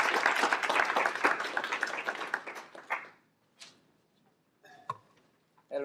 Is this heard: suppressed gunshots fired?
no